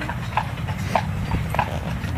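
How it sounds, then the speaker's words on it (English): A horse being fed outdoors makes soft, regular hoof clops, each about half a second apart, over steady low background rumble. "Feeding a horse."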